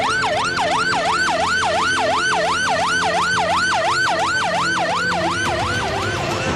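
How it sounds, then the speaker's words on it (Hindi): An ambulance siren speeding along, a loud, fast wailing rise-and-fall cycle repeating steadily and close by for several seconds, with no voices. "फिर दूसरे ही लम्हे शब्बीर को तेजी से दौड़ती हुई एम्बुलेंस की आवाज सुनाई देने लगी।"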